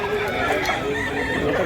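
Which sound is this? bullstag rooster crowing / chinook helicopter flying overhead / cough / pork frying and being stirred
bullstag rooster crowing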